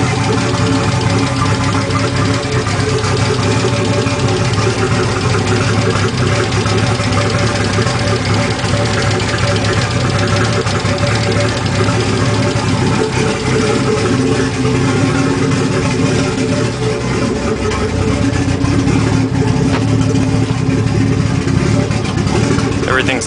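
A Nissan RB25DET S2 engine, freshly built with wiring still loose, runs continuously at a loud, steady idle with a rough mechanical clatter throughout.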